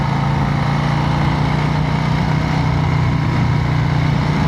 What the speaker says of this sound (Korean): 배기음이 묵직한 게, 이게 할리구나.